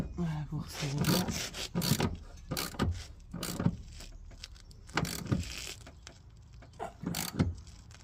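A ratchet wrench tightens the rear shock absorber bolt on a Citroën C3, giving a series of close, rapid clicking and rasping strokes in irregular bursts.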